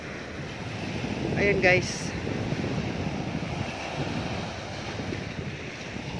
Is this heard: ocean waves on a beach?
yes